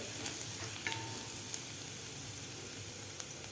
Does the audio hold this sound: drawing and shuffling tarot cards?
no